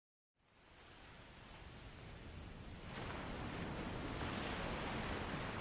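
Sea surf washing in steadily, a broad continuous rush that fades up from silence and swells fuller after a few seconds, with no voices.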